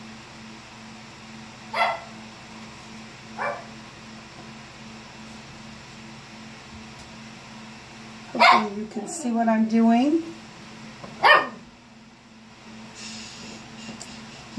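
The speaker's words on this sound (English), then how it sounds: "You can hear my dog letting me know that he's here." A dog barks indoors in a few short bursts mid-clip, with one earlier faint yip, while someone talks quietly through a makeup demonstration.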